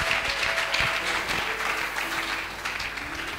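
A church congregation claps together for the Lord, a dense, moderately loud patter of hands that fades slightly toward the end, with faint voices and a tonal background underneath.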